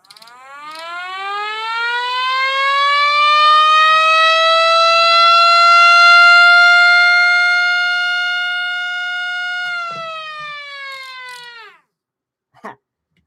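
A 3D-printed mini STH-10 siren winds up into one long, rising, steady wail that holds for several seconds, then drops off abruptly, followed by a short click near the end.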